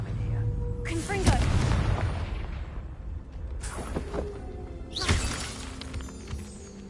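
Confringo blasting spell explosions in the Hogwarts Legacy video game, three loud bursting blasts with shattering crackle and booming rumble, spaced a couple of seconds apart, under a voiced spell shout.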